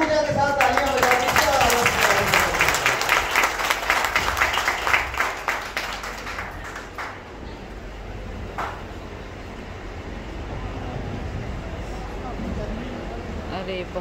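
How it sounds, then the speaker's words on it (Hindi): Audience applause in a hall during a speech event, loud dense clapping for about seven seconds that fades out, leaving quieter room noise and a murmur of voices. "सदन में पूरी ऊर्जा के साथ तालियां बजाइए"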